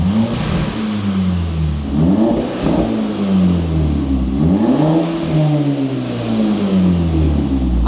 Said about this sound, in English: Go on, one more rev, that's closed.